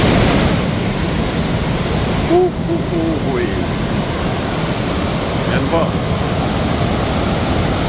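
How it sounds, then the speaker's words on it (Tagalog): Strong broadband roar of water rushing at Wawa Dam in Rodriguez, Rizal, loud and continuous throughout, with a voice briefly speaking over it. "sobrang lakas ng current ng tubig"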